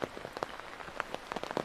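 Rain falls outdoors near a palace in Chraplewo, Poland, its drops tapping irregularly and closely on a surface in a steady patter.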